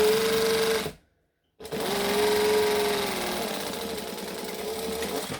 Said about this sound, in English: So I'm stitching, I am back stitching